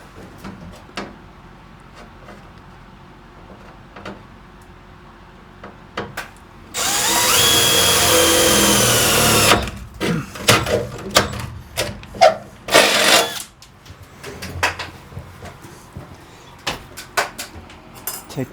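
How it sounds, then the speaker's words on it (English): A power drill bores a hole for a bolt while a shelf is built from old materials, one loud steady whir of about three seconds, then a shorter second burst after some clunks and handling knocks. "Drill my hole."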